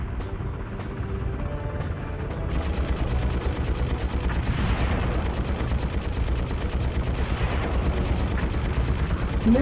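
Rapid gunfire from the PS2 helicopter combat game Fireblade, a dense continuous rattle of shots over a low engine-like rumble, loud and steady throughout with no talk.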